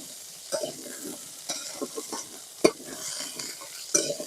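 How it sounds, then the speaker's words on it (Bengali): Drumstick stalks frying in oil in a pan for a rohu fish curry, with a soft background sizzle broken by scattered scraping stirs and a sharp utensil knock on the pan. "এবার ডাটা গুনা একটু ভেজে নেবো"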